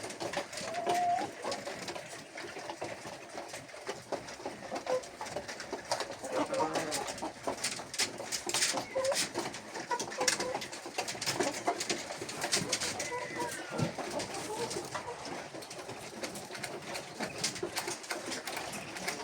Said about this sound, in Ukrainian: Ці курочки їдять, перепели теж їдять.